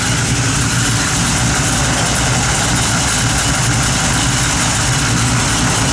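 A 1973 Chevrolet Camaro with a pump-gas engine idling up close, a loud, continuous low rumble with steady throb and no voices.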